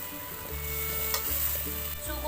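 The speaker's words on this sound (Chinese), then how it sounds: "快速翻炒。" Shredded vegetables with chives, seasoned with salt and MSG, are stir-fried briskly in a hot wok, giving a steady close sizzle broken by scraping tosses of the spatula.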